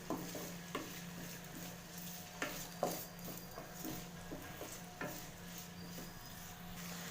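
Pumpkin pieces fry in a pan over a faint, steady sizzle, broken by a few quiet, spaced clinks of a spoon turning them, with no voice present.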